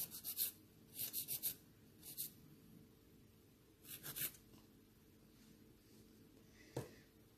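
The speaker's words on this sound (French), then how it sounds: "On peut même relimer une toute dernière fois si on veut pour que ce soit vraiment lisse" Nail file rubbing across a gel nail on a stiletto almond set, short scratchy strokes in quick bursts with pauses between, close and fairly faint.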